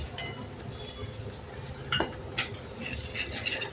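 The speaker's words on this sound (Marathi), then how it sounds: "असं छान आपण कुस्करून घ्यायची केळी" Bananas being mashed in ghee in a pan for prasad sheera, with soft scraping and stirring, a few sharp clinks of a utensil against the pan, close and fairly quiet, no talking.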